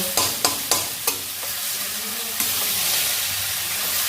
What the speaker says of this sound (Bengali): সবটাই একসাথে মিশিয়ে নেব পুরো ভালো করে এটাকে মিশিয়ে নেব